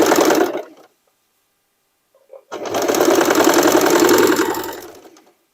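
An overlock sewing machine runs stitching denim pieces in two bursts, a short one and then a longer steady whirring run of about three seconds, separated by a quiet gap with a faint click.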